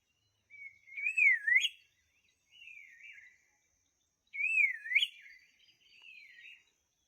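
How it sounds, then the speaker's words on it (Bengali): A lone bird near a hillside resort gives two clear rising, warbling whistled phrases separated by a pause, each followed by a softer trailing call, against near silence. "সুন্দর পাখির আওয়াজ"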